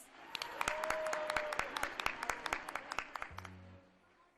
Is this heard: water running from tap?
no